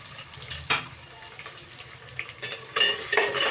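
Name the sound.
chopped onions frying in a pan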